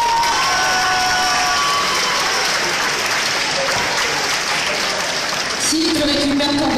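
A convention crowd at a cosplay contest bursts into loud, sustained applause and cheering, with shouts and children's voices rising over dense clapping.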